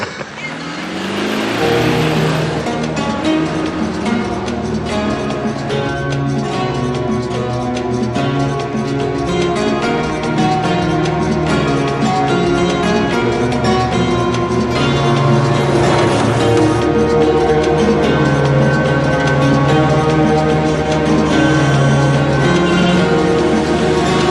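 A car engine revs and surges on the road as another vehicle tries to overtake, loud and continuous, with a passing swell midway and occasional voices in the cabin.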